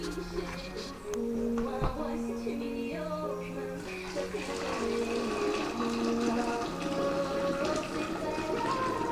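Sugar water for peach wine pours steadily into a container for several seconds, with a continuous watery rush and gurgle over a faint background hum.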